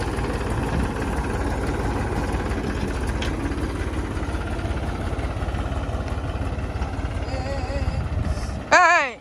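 A new, powerful tractor works a grassy field during ploughing after the rains. Its engine holds a steady, throbbing low drone throughout, and a brief rattling burst comes at the very end.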